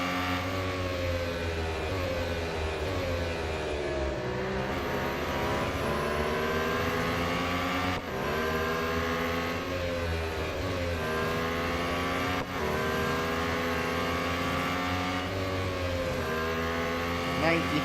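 Lotus Emira GT4 race cars in Real Racing 3, a steady loud engine drone with rising and falling revs through gear changes, continuous near-field roar with a few brief shift dips.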